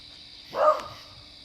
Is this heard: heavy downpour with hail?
no